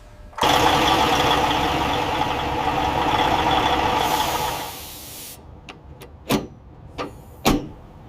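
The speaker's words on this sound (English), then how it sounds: "Engine is cranking on this Kenworth T800. Listen to that." The engine of a long-abandoned Kenworth T800 truck cranks briefly, catches, and runs loudly for a few seconds before cutting off, followed by a few sharp clicks and knocks.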